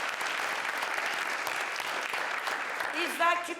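Audience applause at a Cannes 2021 press conference for the four producers of the film Les Intranquilles, a steady dense wash of clapping throughout with a voice briefly heard near the end.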